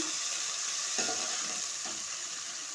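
Freshly crushed ginger fries in a pan, giving a soft continuous sizzle with a couple of stirring scrapes, close and fairly quiet, no voices.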